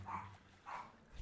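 A dog barks twice in the background, faint and somewhat distant, greeting someone arriving, with a low steady hum underneath.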